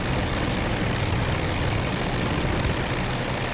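A Ryan ST-A propeller plane in Microsoft Flight Simulator 2020 drones steadily as the throttle comes in, a continuous low engine rumble with no breaks or voices.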